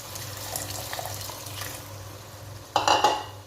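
Water poured into minced meat in a pan, about one to one and a half cups after browning over high heat; a short loud splash and sizzle bursts out near the end after quiet background noise.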